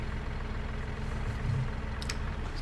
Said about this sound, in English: let's turn the engine off